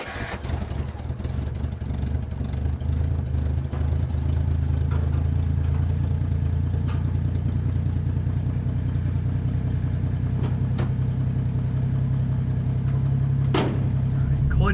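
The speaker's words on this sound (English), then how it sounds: "It's in neutral currently, so we'll fire it up and try to drive from this spot again." An old farm truck with 300,000 miles starts and settles into a steady, low, clattery idle, with a short cranking burst at the start and a faint click or two later.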